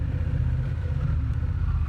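A Honda Rebel 1100 DCT motorcycle pulling away in automatic drive mode, its engine a steady close rumble with a low throbbing beat.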